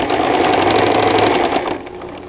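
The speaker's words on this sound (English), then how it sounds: "I did sew right over top of the pin, which is okay because I've got a really good strong needle." A sewing machine with a strong needle stitches straight over a pin, running loud and close in a rapid, steady hum before slowing and stopping.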